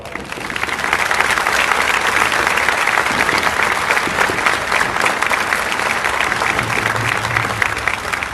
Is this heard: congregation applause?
yes